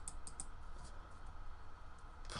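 Faint, quick keystrokes tap on a computer keyboard while text is entered into a Roblox game text box, with a small cluster of clicks near the start and a few more toward the end, quiet and close.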